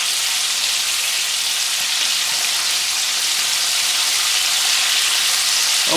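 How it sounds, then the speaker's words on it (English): Chicken wings deep-frying in oil, four at a time in a pot: a loud, dense, continuous sizzle and crackle of bubbling oil, close and steady throughout, with no voices. "the wings has been frying for around 6 minutes"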